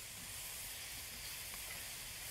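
Mushrooms and onions sautéing in a pan make a steady, soft, bright sizzle that stays even and close throughout, with no talking.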